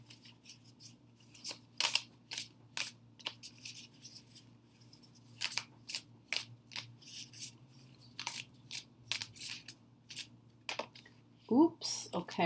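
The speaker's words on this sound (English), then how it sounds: "And we'll go ahead and shuffle the deck." A deck of oracle cards is hand-shuffled in repeated brisk riffles and slides, close and crisp with short pauses between strokes, and a voice speaks briefly near the end.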